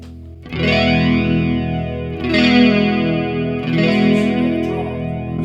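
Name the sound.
Blackstar HT-Modulation pedal flanger with saturation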